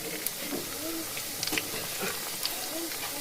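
Phool pitha fries in oil in a wok, a soft continuous hiss and bubbling with a few faint crackles, heard close but quiet and not very distinct.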